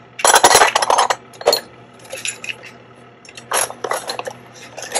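Powder-coated Porsche battery hold-down parts clinking and rattling together, close and bright metallic jangles in several bursts with quiet gaps between them.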